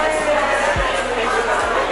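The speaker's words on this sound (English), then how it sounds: "There's always a crowd. Always a crowd." Crowd at The Makeup Show NYC, a busy beauty trade show: a loud, steady wash of indoor chatter and hubbub from many people close by, with a few low thumps.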